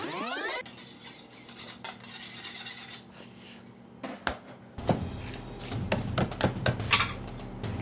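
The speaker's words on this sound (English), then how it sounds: "He's using a plate to sharpen." A kitchen knife blade is sharpened against a plate in a Sichuan kitchen, producing harsh repeated scraping strokes and metallic clinks that grow louder and more continuous toward the end, close up.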